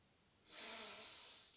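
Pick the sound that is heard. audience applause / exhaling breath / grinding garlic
exhaling breath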